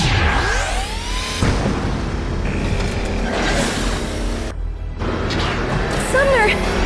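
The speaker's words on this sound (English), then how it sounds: "An explosion! Was there some kind of an accident?" A boom erupts in the anime Eureka Seven, a loud burst with whooshing sweeps and rumbling debris layered with music and other effects, while voices speak over parts of it.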